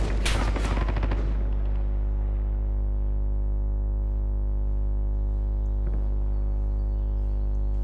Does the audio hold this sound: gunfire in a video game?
yes